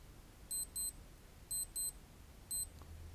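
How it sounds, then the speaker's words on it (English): A Casio G-Shock Mudmaster GG-1000 watch sounds its alarm test: short, high-pitched electronic beeps in pairs, two pairs then a single beep, clear and close against a quiet background. "that lets you know what the alarm sounds like and whether it's working properly"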